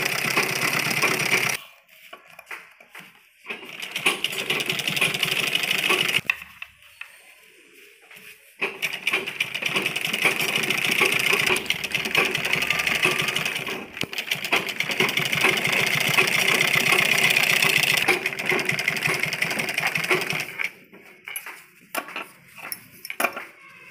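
A sewing machine stitches the back neckline of a kurti, its motor whirring in long steady bursts separated by short quiet pauses, with a few brief stop-start runs toward the end.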